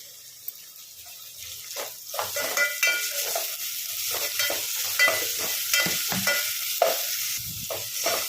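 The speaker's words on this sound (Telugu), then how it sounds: "అల్లం వెల్లుల్లి పేస్ట్ అయితే బాగా మగ్గిపోయిందండి, ఫ్రై అయిపోయింది" Ginger garlic paste frying with onions and curry leaves in a pan for Telangana-style boti curry, a close crackling sizzle broken by repeated stirring scrapes, with no talking.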